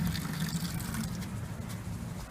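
Water runs from the tap of a garden rain barrel into a bucket, a steady close-up trickling and splashing stream that holds evenly for the whole stretch with no talking.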